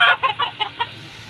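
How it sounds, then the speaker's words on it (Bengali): Incubator-hatched hens on a farm give five short, close clucks in a quick, uneven rhythm, then fall quiet against faint background noise. "এগুলো কিন্তু আমাদের নিজস্ব ইনকিউবিটার ফুটানো যে মুরগিগুলো"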